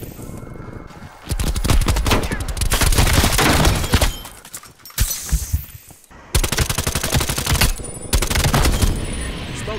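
AK rifle fire in Black Ops Cold War: loud, rapid automatic bursts close by, broken by short pauses and distant booms, with a faint voice now and then.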